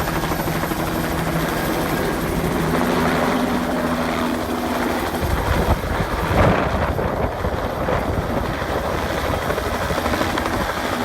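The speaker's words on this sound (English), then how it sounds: "So our helicopter has landed and we're about to board." A helicopter's loud, steady rotor roar with wind buffeting the microphone, dominating throughout and rising briefly partway through, in Sri Lanka.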